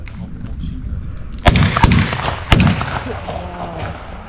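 Loud shotgun blasts at a 20th-century weapons demonstration, two sharp close reports about a second apart with echoing tails, a third shot shortly after, voices murmuring in the background.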